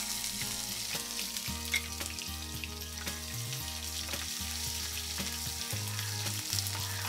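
Chopped onion frying in oil with garam masala for a village-style country chicken curry: a continuous crackling sizzle, fairly quiet, with a low droning hum running underneath and occasional stirring clicks.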